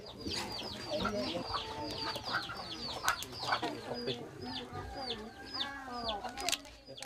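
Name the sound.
chicken clucking at a village ritual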